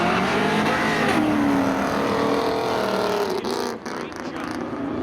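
A 1992 Chevy Camaro drag racing at Seekonk Speedway, a loud continuous engine roar with rising revs, ending in a brief dip and a squeal-like shift while a voice is faintly present.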